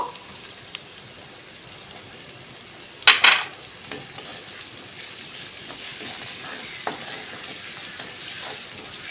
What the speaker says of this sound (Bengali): আবার একটুখানি নাড়িয়ে নেব